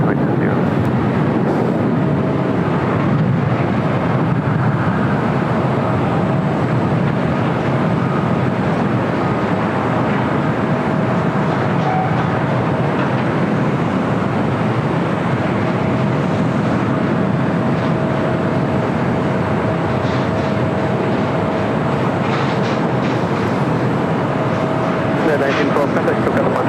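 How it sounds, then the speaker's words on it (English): A Boeing 757 jet bound for Denver takes off at LAX, a long steady roar with a faint whine running through it, loud and unbroken for nearly half a minute. "That was a 757 heading to Denver,"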